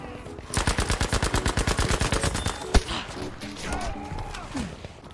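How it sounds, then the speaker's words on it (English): Automatic gunfire in the video game Battlefield: a rapid, loud burst of shots lasting about two seconds, then one sharp single shot and quieter scattered battle noise. "I'm laying down, they're shooting at us."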